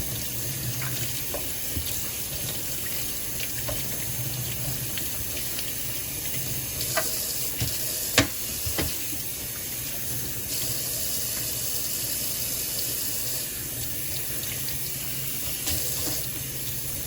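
Tap water runs steadily as a car cabin air filter from a Mitsubishi is rinsed under it, giving a continuous hissing splash with a few faint knocks and clatters. No one speaks.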